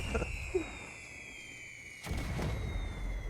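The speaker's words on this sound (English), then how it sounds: "There's some Long John fireworks" Long John fireworks going off outdoors, with a soft thump early on and a sharper burst of crackling pops about two seconds in, set over a steady high whine and low background rumble.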